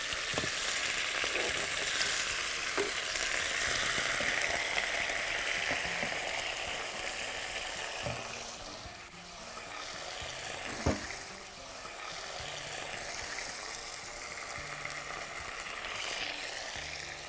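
Lamb pieces frying in a pan for vindaloo, a loud, continuous sizzle close up with occasional stirring scrapes and a sharp clink, easing a little midway then holding steady.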